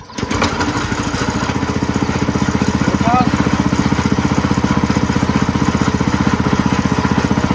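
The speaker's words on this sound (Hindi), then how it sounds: "चले जनरेटर जो है चल चुका है।" A generator engine runs loud and close in a village setting, a steady rapid chugging drone that holds even throughout with a brief rougher catch near the start.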